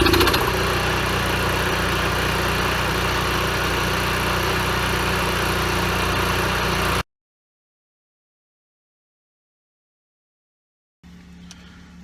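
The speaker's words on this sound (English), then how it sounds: "we're going to fire it up and see if that seafoam did what it did and kept the carburetor clean, so that we have our boondocking generator" Carbureted RV generator for boondocking runs with a steady, loud mechanical drone for several seconds, then cuts to silence before a faint low hum returns.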